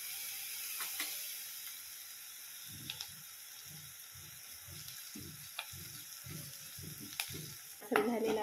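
Curry leaves, garlic and ginger hit hot oil for a Marathi green chickpea chutney, giving a steady low sizzle with bursts of crackling and pops throughout, close and moderately loud, with no voice over it.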